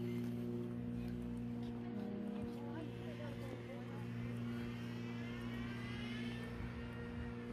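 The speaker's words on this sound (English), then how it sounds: "The plane is flying overhead." A plane flies overhead during police and sheriff arrests in Bismarck, North Dakota, a steady engine drone and hum holding throughout under continuous street noise and talk.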